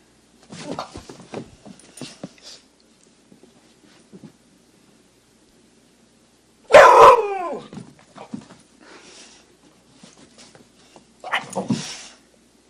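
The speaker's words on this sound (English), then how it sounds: "he's actually barking more at the mom, like, hey, come on, do something" A pit bull mix barks in a home, with one loud, close bark burst in the middle among scattered softer yelps and whines spread across the stretch, and no talk.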